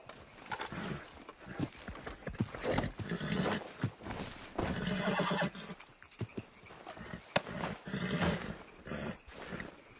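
A horse whinnies and snorts among rhythmic clip-clopping hooves in Red Dead Redemption 2, the scene busy and moderately loud with layered game-like effects.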